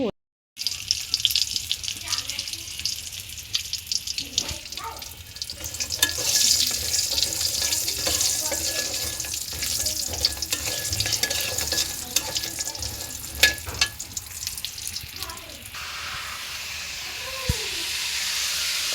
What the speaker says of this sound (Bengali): এই যে এদিকে আমি বেগুন ভাজছি